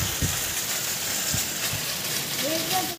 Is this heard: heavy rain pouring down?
yes